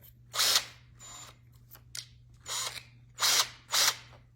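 A power drill whirs in several short bursts, revving up and stopping with brief pauses between, close by and fairly loud.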